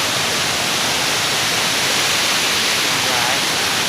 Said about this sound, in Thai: น้ำตกตาดแซะน้ำไหลเย็นสบาย